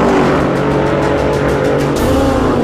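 Powerful sports cars, among them a McLaren, launch hard in a drag race with a loud, sustained engine roar. The roar stays dense and steady throughout, ending in a brief higher-pitched surge, and no one speaks.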